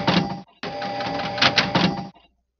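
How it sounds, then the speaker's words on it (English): Loading sound effect from the Pinball 3D video game: a short mechanical, printer-like whirring burst, a brief gap, then a longer rattling stretch with a few brighter clicks before it stops, heard alone. "Find the loading sound, which is sound four, so it sounds like this."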